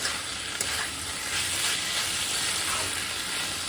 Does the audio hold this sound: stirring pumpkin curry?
yes